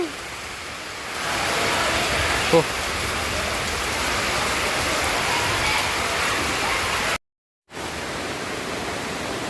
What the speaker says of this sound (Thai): เป็นภาพบรรยากาศ ฝนตกปอย